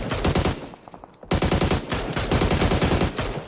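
Rapid automatic gunfire in a video game firefight, loud and close, with dense bursts of shots broken by a short pause before the firing resumes.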